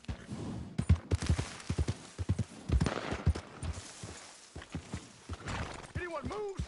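Horse hooves clip-clop in a quick, uneven rhythm as a rider urges the animal on, with a brief whinny near the end and voices speaking over the galloping.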